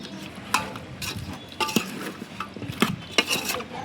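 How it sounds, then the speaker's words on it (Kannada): Chicken with turmeric being stirred in a pot over a wood-fired stove in a village kitchen, with scraping clinks of a metal spoon against the pot at irregular moments and soft background noise, no talk. "ಒಂದು ಸ್ವಲ್ಪ ಅರಿಶಿಣ ಹಾಕಿ ನೀಟಾಗಿ ಮಿಕ್ಸ್ ಮಾಡಬೇಕು."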